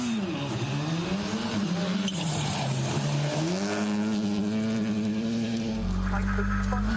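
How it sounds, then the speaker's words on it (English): WRC Rally1 car at full throttle during shakedown at Rally de Portugal 2024, a loud rising engine howl with pitch sweeps through gear changes, then a sudden burst of gravelly roar near the end. "As soon as he tipped that in, he just buried the throttle and lit it up."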